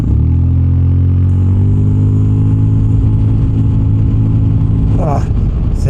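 A Zontes ADV 368 G adventure scooter with about 40 hp, switched to sport mode and accelerating on the road, its engine droning loud and steady with a rising pitch throughout and a brief extra noise near the end.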